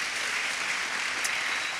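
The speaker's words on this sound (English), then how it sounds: "Let's give them an applause." Church congregation applauding after an evening service, a steady, even wash of many hands clapping together at moderate distance, sustained without pause and with no talking over it.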